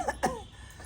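A man coughs twice in quick succession, a short close-up burst of harsh coughs followed by quiet.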